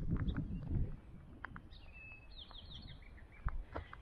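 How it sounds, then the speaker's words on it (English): Faint birds chirp in short bursts at a distance over quiet outdoor ambience, with a few footsteps crunching on gravel at the start. "Hear the birds?"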